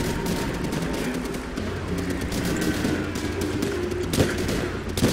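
Dense battlefield gunfire in Call of Duty: World at War, with rifle and machine-gun shots crackling almost without a break for several seconds in a steady, loud din of combat.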